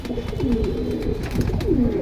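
Several pigeons coo in overlapping, rising-and-falling calls nearby, steady and continuous against a busy background murmur.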